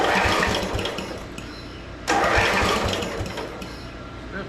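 A 1970s Briggs and Stratton tractor engine is cranked with the choke pulled, giving two loud, rough bursts of starter and engine noise close by, with a brief lull between them.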